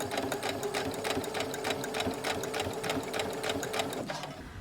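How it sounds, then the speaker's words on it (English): A sewing machine runs a few forward stitches, its rapid rhythmic needle clatter close and steady before stopping near the end. "I'm just going to go ahead and do a couple of stitches forward again."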